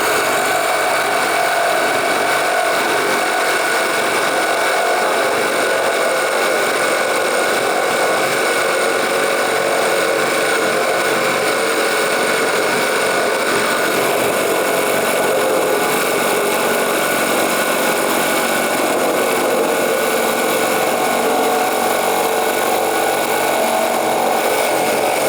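A Ridgid power tool cuts through wood with a loud, close, continuous roar and grinding whine that holds steady for the whole stretch without a break.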